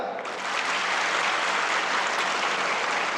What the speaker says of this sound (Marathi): तुम्ही टाळ्या वाजवायच्या जोरात